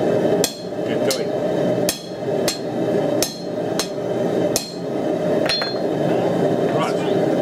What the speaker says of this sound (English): Hammer, anvil, what I want to do, doesn't matter how you do it, is just move this metal here.